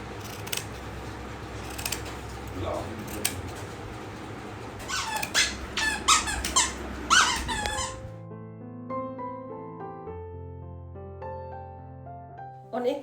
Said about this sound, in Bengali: এই সাইডের সুতোগুলো, এগুলোকে একটু ছাড়িয়ে দিচ্ছি আর এগুলো একটু সমান করে কেটে নেব